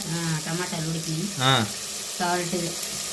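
Tomatoes sizzling and frying in a hot pan while cooking, a steady broadband hiss throughout, with someone talking over it in several short bursts.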